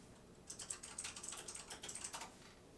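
Quiet, close clatter of fingers typing on a computer keyboard: quick irregular keystrokes in short runs with brief pauses, heard alone without any talk.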